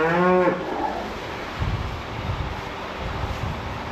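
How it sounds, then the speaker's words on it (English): A cow in a barn with an injured foot lets out one loud, close moo at the start, followed by wind buffeting and low rumbling noise. "I got a cow in here with a bad foot."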